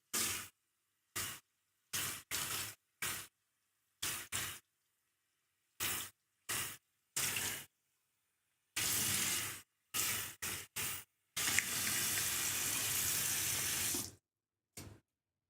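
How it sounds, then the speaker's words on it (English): A tap runs in short bursts of splashing water as hands are washed, stopping and starting repeatedly, then a longer steady stream near the end, close by with no talk. "I'm washing my hands."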